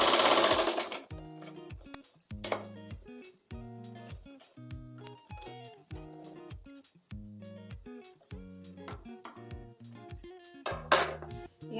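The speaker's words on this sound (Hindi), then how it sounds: "यहीं से हम अपने पाँव को उठाएंगे और डबल सिलाई लगाएंगे।" Sewing machine stitching the waistband of a belted salwar, running in short rhythmic bursts of rapid mechanical clatter separated by brief pauses and small metallic clinks, close and fairly loud with no talking.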